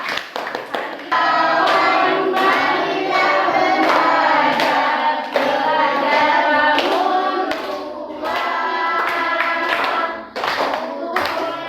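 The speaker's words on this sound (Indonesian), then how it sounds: "tepuk tangan untuk kita semua" Children in a classroom clap their hands together after a maths lesson on cubes and cuboids, a fairly close, steady burst of applause lasting most of the clip with a few voices mixed in.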